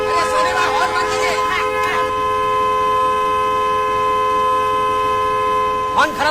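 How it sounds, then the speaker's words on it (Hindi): A steady car horn blares continuously and loudly throughout, with brief bursts of children's voices shouting over it near the start and end. "हॉर्न कौन बजा रहा है इतना जोर जोर से?"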